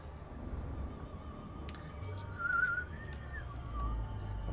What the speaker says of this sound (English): I must not whistle along and hum to the music